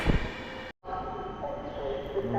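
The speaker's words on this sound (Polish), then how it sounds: "Wjechał pociąg łódzkiej kolei aglomeracyjnej do stacji Łódź Fabryczna" An ŁKA regional agglomeration train rolls into Łódź Fabryczna station, a sustained mechanical rumble with tonal hum and brake squeal, briefly cut by a short gap, close and moderately loud.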